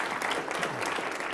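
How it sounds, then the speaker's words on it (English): Audience applause at a conference session, a brief, dense burst of many hands clapping at a steady level. "Let's give everybody a round of applause for that"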